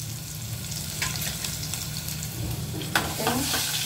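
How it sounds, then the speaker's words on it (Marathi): Garlic and ginger-garlic paste fry in a pan with a soft, steady sizzle, broken by occasional scraping stirs and a few sharper crackles toward the end, all fairly quiet and close. "आता घालते लसूण, आलं लसणाची पेस्ट."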